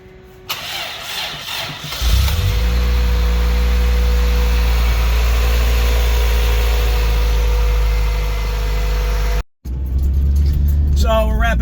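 A car engine cranks and catches, then settles into a loud steady low rumble close by, idling and running at night before the car drives home, briefly cutting out near the end.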